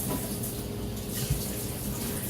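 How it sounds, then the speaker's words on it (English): Water runs steadily from a kitchen tap, a constant loud hiss and splash that fills the short stretch without pause. "Keep the water running maybe."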